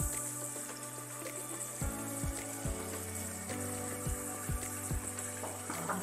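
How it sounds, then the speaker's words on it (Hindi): Water poured into a pot of mutton biryani while cooking, a steady trickling flow with a hum in the background, moderately quiet and without talk. "अब इसमें हमने थोड़ा सा पानी ऐड किया है, कम से कम हाफ कप"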